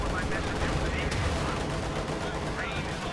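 Loud, dense gunfire and tank cannon fire from a WWII video game battle with Panthers, a Panzer IV and T-34s, a continuous rattling barrage with overlapping shots and blasts throughout.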